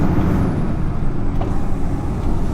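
A truck's engine holds a steady, loud, close rumble, with a hissing air brake layered over the low drone throughout.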